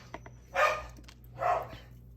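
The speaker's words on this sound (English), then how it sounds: "I don't know who he's barking at." A dog barks in two fairly loud bursts at a moderate distance indoors, with a few faint knocks and rustles in between and no talking.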